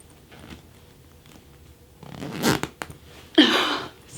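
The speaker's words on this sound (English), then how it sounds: "I'm not sure if this is gonna zip." A zipper is pulled shut on a stuffed, lumpy cushion cover in two bursts: first a rough, scraping run, then a second sharper drag after a short pause, close and fairly loud in an otherwise quiet room.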